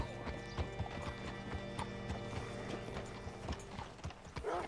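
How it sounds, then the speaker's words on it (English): Horse hooves clip-clop at a walk in the video game Red Dead Redemption 2, an uneven run of close hoof strikes over soft ambient game sound, with a short snort or whinny near the end. "Hitch your horse up here."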